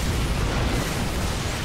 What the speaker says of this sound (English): Great EMP